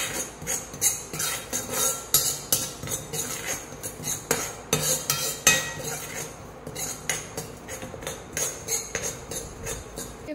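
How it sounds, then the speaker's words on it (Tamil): Nigella seeds dry roasting in a pan, with a spoon stirring and scraping through them in a steady run of close metallic clinks and clatters, with no voices. "இதோடையே இந்த கருஞ்சீரகம் சேர்த்தனால ஒரு 5லேருந்து 10 நிமிஷம் வரைக்கும் நல்லா வறுத்து எடுத்துக்கலாம்."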